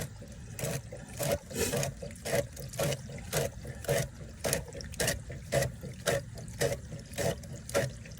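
Water draining from a swimming pool during closing for the season, a steady low rushing and gurgling flow with rhythmic pulsing surges roughly every half second, faint and continuous with no talk.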